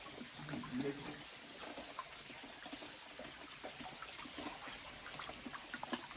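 Cold water trickles and drips steadily inside a cave temple in Nepal, with a soft, continuous flow and faint echoing splashes that stay at a low level throughout.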